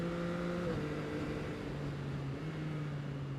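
A Yamaha XSR900's CP3 three-cylinder engine runs with a steady, smooth drone that shifts slightly in pitch, heard continuously and fairly quietly from close by.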